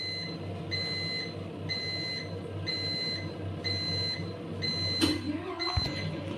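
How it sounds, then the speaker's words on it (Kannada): A budget washing machine signals the end of its wash cycle with a series of evenly spaced, bright electronic beeps, close and clear over a low background hum, followed by a brief clatter at the end. "ಬಟ್ಟೆ ಎಲ್ಲ ವಾಶ್ ಆದಮೇಲೆ ಈ ಥರ ಸೌಂಡ್ ಬರುತ್ತೆ."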